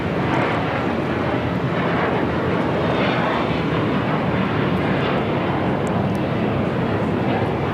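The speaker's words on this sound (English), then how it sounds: "This is JetBlue Flight 100 taking off to Fort Lauderdale on the A321." A JetBlue Airbus A321 taking off from LAX, a sustained broad engine roar that holds steady and loud throughout, with no speech over it.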